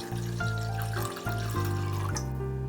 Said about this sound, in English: Please pour in enough water so that it'll keep boiling for more than 15 minutes.